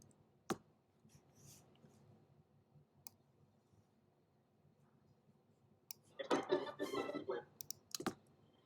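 Mouse clicks in video editing software: a few isolated sharp clicks over quiet room tone, then a brief burst of rapid clicking and tapping, close by, with no voices.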